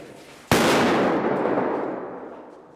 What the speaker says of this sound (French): Attention, grenade, grenade!